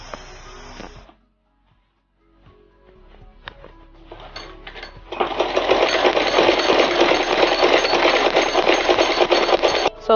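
A sewing machine stitches a hair bonnet, first a brief run, then a pause with light handling noises, then a loud, steady continuous whirring run for the second half.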